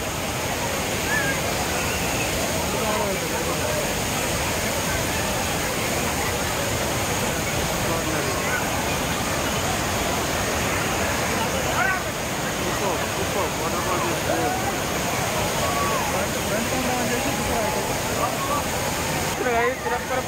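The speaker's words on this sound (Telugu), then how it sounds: "వాటర్ ఫాల్స్ మాత్రం అమేజింగ్ ఉంది" Thirparappu waterfall in Tamil Nadu, a steady, loud, continuous rush of falling water filling the scene throughout, with a busy crowd of visitors faintly audible beneath the roar.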